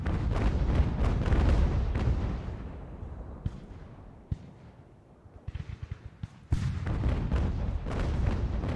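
Booming naval cannon fire with solid shot from the Ultimate General: American Revolution sailing-ship battle, heavy rolling blasts that fade into a quieter stretch with scattered pops before another loud volley erupts.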